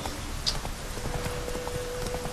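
Horse hooves clip-clop at a steady trotting pace in The Witcher 3: Wild Hunt, close and moderately loud over a low, continuous background rumble, with no talking.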